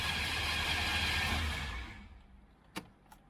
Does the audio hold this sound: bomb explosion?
no